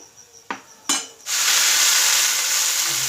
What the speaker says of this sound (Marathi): आपण हे दह्याचा बॅटर तर तयार करून घेतलं होतं ते यामध्ये आपण घालायचं आहे